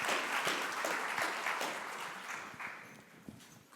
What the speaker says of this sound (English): let's give a nice round of applause for Deanne